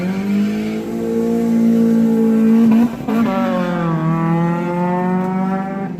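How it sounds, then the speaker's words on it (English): Loud vehicles revving up nearby, a sustained roaring engine drone that swells, breaks briefly, then resumes with a rising pitch as they pass, alone without voices. "These loud ass vehicles, man."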